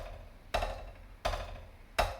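A drumstick strikes a drum three times at an uneven pace, each hit sharp and close, with a short ring trailing off before the next.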